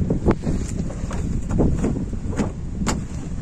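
Steady outdoor wind buffets the microphone as a constant low rumble, with a few faint knocks and clicks on top and no speech.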